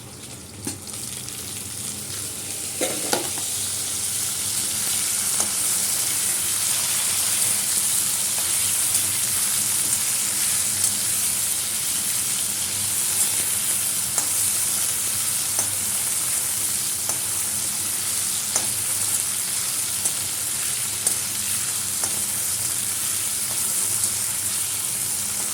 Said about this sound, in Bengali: গাঁটি কচুগুলো একটু ভাজা হোক